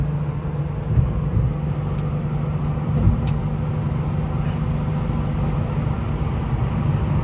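A 1996 Porsche 993 Coupe with automatic transmission cruising steadily on a highway at around 70 mph, a continuous low engine and road drone with wind noise inside the cabin.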